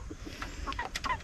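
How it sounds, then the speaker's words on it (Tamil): Chickens in a coop cluck in short, close bursts over a low outdoor background, several calls overlapping near the end. "இன்னும் பார்த்தீங்கன்னா மற்ற கோழி எல்லாமே இருக்குது"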